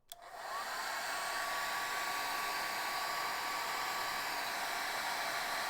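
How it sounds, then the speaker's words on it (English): Blow dryer aimed at warped paint to flatten it, switching on with a click and then running as a steady, close whooshing hiss without a break. "I'm going to use the blow dryer for a second."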